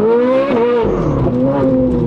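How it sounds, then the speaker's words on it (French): A Ferrari 458 Italia naturally aspirated V8 revs hard toward its 9000 rpm redline and holds there, its high-pitched harmonics rising and sweeping, loud and close with no talking. "Un seul mot, moteur Atmo tout simplement, V8, 9000 tours."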